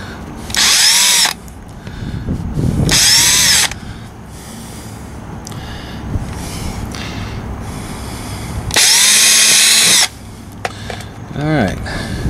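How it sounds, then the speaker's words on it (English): A power drill pre-drills screw holes through a DIY travel trailer during a holding tank install, whining loudly in three separate bursts of one to two seconds each, with steady background noise and brief talking between bursts. "So pre-drill a couple holes."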